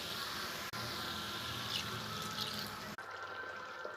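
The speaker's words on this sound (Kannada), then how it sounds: "ಸ್ವಲ್ಪ ನೀರು ಹಾಕ್ತೀನಿ, ಡ್ರೈ ಆಗಿಬಿಟ್ಟಿದೆ." Water is poured into a pan of frying potatoes and okra, a continuous faint hissing, bubbling wash that runs steadily with two brief dropouts.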